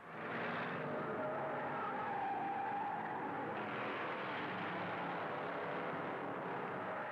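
Stock cars racing in the 1962 Daytona 500 at Daytona International Speedway, a steady loud roar of engines that holds for the whole stretch with a faint tonal whine running through it.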